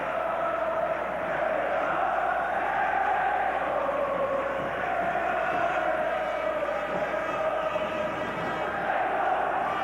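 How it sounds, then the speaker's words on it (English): Boxing arena crowd singing in unison to urge on a fighter, a dense sustained chant from a large audience filling the hall, steady and loud with no pauses. "The crowd singing in unison to urge on their man Ray Close, who has really picked it up the last few rounds."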